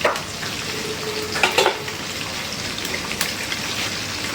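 Luchi kabab, a meat preparation, fries in hot oil with a loud continuous crackling hiss and a few sharper pops and clinks near the start.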